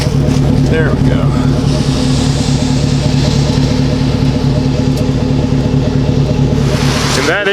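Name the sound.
Chevrolet Silverado pickup with new aftermarket exhaust idling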